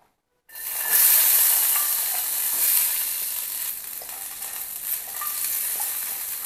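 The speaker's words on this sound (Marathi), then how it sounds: "थोडंसं तेल घालून कढईमध्ये भाजून घेऊया" Cluster beans roast in a kadhai with a small spoonful of oil over a high gas flame, giving a loud, steady, close sizzle with faint scraping of stirring. No one speaks.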